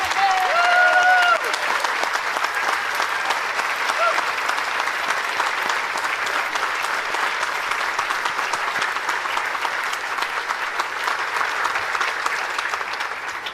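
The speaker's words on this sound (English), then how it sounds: "So please give a round of applause." A room full of people at a gala applauding steadily, the clapping sustained at an even level throughout, with a brief voice at the start.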